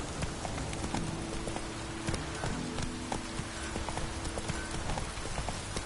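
Roach, Geralt's horse in The Witcher 3, gallops in a steady fast clip-clop of hooves that runs throughout, loud and close over a dense rushing ambient wash.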